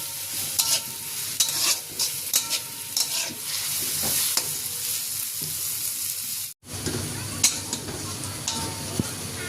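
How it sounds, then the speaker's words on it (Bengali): Chopped onion and green chillies sizzle in oil in a pan for curry, with a steady fry hiss broken by repeated scraping stirs of a spatula, one brief pause near the end, no voices. "পেঁয়াজ আর কাঁচামরিচগুলোকে ভেজে নিয়েছি"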